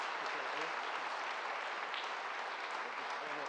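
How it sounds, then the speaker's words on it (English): A steady round of applause from an audience at a military international student event honours Commandant Gavin Egerton, the partner from Ireland, the dense clapping held at an even level throughout. "Please join us again to give a round of applause to our partner from Ireland"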